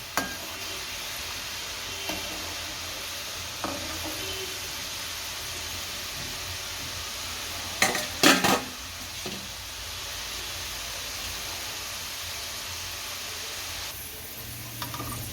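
Moong dal frying in a pan for a savoury Gujarati snack, heard as a continuous soft sizzle broken by occasional spoon scrapes and a burst of stirring clatter near the middle.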